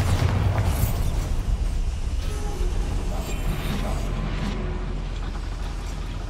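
A rumbling, booming blast from the Bombarda spell in a video game, set in a goblin mine, fills the scene with a low, sustained roar and crackling debris, with no talk heard.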